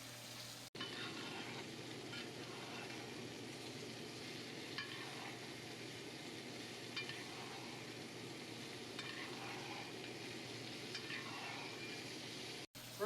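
A steak sizzles in a pan while being basted with butter and fresh rosemary, a soft continuous crackle and hiss with light spoon scrapes and splashes, quiet and steady with no speech.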